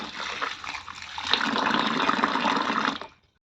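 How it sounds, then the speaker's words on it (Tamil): Turmeric roots being washed in water give a steady, full splashing and sloshing wash of water that runs for about three seconds, then stops abruptly into silence. "மஞ்சள் கிழங்க நல்லா கழுவிக்கலாம்"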